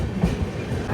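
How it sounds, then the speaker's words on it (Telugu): A brief, close rumble and clatter of rail wheels as the Malwa Express, running from Ambedkar Nagar to Shri Mata Vaishno Devi Katra, moves alongside on a parallel track near Bhopal. The steady train noise fills the short moment. "అండ్ ఆ ట్రైన్ ఈ ట్రైన్ అయితే ప్యారలల్గా మూవ్ అవుతున్నాయి"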